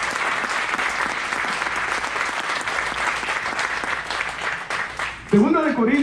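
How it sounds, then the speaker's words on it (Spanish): A church congregation applauds loudly and continuously in a dense, even wash of clapping for about five seconds, ending as a voice breaks in at the close. "Den un aplauso al Rey."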